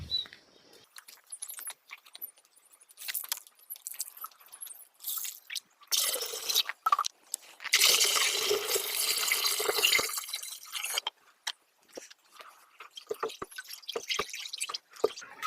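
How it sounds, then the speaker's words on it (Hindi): Cow urine is poured from a container into a tank on an organic farm, a close splashing, gurgling pour that swells into a steady rush midway before trailing into drips. "ये 10 लीटर गौमूत्र हो गया। अब इसको हम इस टंकी में डालते हैं।"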